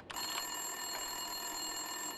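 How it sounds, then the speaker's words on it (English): An office desk phone rings in the video game Max Payne 2, a steady, faint electronic ring held throughout under a soft background hum, with no one talking. "Winterson's phone was ringing."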